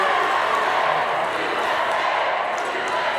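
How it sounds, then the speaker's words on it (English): A crowd at a Paralympic wheelchair curling match roars in a broad, steady wash of cheering, loud and continuous throughout with no clear breaks. "With a vocal crowd behind them"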